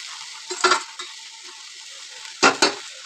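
Amaranth stem greens (thandu keerai) are stirred in a cooking pan: two short bursts of spatula scraping and clatter over a faint, constant background sizzle.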